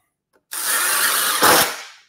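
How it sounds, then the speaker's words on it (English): A power drill drives a screw while drywall is being hung, giving one close, loud buzzing whir of about a second and a half that swells briefly near the end before winding down. "grab a couple of screws and our drill"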